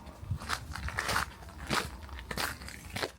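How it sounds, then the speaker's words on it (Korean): Footsteps crunch steadily through freshly fallen snow on a snowy trekking trail, about five or six evenly spaced steps close by with no voices. "소복기 쌓인 눈을 밟으며 들려오는 발자국 소리에 자연스레 힐링이 됩니다."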